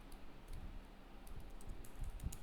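Faint, scattered keystrokes click on a computer keyboard, irregular and soft, over a low background hum.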